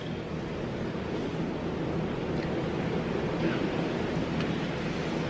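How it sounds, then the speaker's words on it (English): Steady, loud wind roaring outdoors for several seconds, a dense unbroken rush with faint gusting swells and no voices over it. "the wind though"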